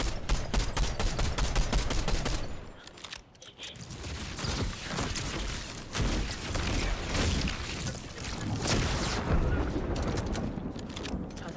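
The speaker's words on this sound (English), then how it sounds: "I'm going to shoot you." Fortnite gunfire crackles in rapid bursts of shots, loud and close, with a short lull before the firing resumes in dense volleys.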